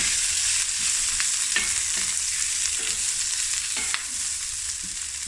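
Rice stir-fried with curry leaves and string beans for a mango atchar fried rice, giving a loud, continuous sizzle up close and occasional scrapes and knocks of the spatula, with no talking.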